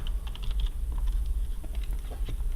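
Quick, steady keystrokes on a computer keyboard as a terminal install command is typed, with close, crisp clicks and no voices.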